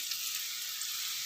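Pieces of parval (pointed gourd) sizzle in hot oil in a kadai, giving a steady, even hiss with no breaks over a short stretch and no voices.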